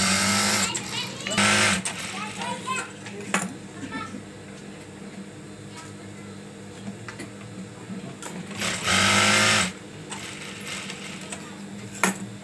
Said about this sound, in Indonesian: sudah kita jahit ya satu sisi ini seperti ini